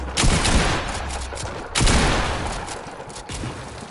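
Loud, close video game gunfire fills the scene, with two heavy bursts of rapid shots, the second around the middle, and quieter scattered shots between them.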